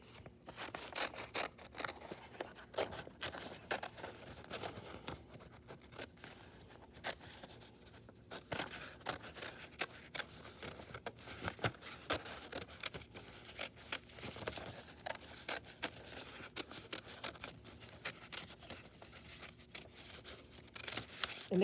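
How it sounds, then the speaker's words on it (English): Scissors snip through two folded sheets of paper for a spring collage tree, a long run of quick, uneven crisp cuts and rustles, close and quiet, with no talking. "cut through both sheets of paper."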